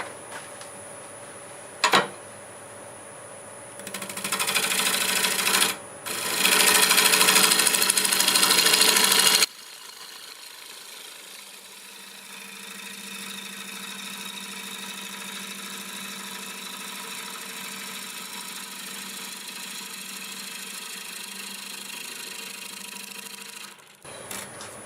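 A wood lathe turns a multi-axis square bowl, with loud bursts of tool contact and scraping at first, followed by a steadier, quieter mechanical hum as the spindle keeps running.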